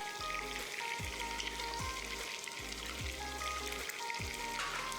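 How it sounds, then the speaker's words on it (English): Fish fillet fries in a non-stick pan, a loud, steady sizzle and crackle filling the whole stretch, with no voices over it. "Fry the fish till it's brown. When the bottom is brown, flip it over and fry the other side."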